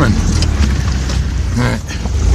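An off-road vehicle in four-wheel drive climbs a mountain trail, its engine a loud, steady low rumble throughout, close by, with someone talking over it.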